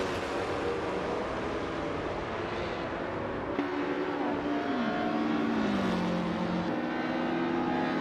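Engines of 1950s Formula 1 race cars in an AI racing video game drone continuously, pitch sliding downward and climbing again through gear shifts as cars race toward the finish, with no talking.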